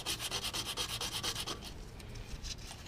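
Rapid, rhythmic scraping of hand sanding on a Toyota metal brake drum, steady back-and-forth strokes up close, then lighter rubbing trailing off.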